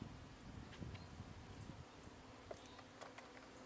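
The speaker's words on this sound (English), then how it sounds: "If you see the other bees flying around," Honey bees buzz steadily around a backyard hive, a faint, close swarm hum with occasional louder passes near the microphone and light wind.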